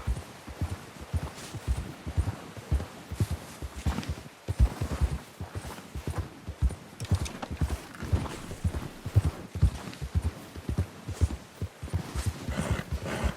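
Steady clip-clop of several horses in Red Dead Redemption 2 walking on a hard surface, close and continuous, hooves overlapping in an uneven rhythm.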